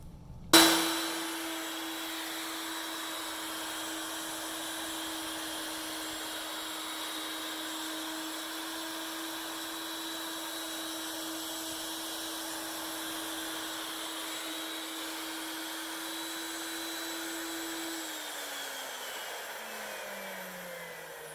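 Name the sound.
Techno CNC router cutting a sonar fin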